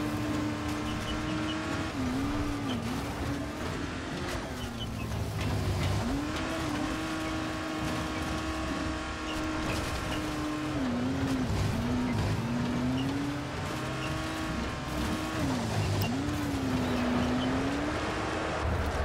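Car driving in the zombie game Dying Light, its engine droning steadily and loud for the whole stretch, with pitch swoops as it steers and squealing tires on the turns; no talking.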